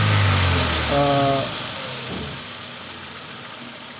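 A car engine undergoing a vacuum gauge health check runs loud and close, its steady hum briefly rising with throttle before settling back to a lower drone.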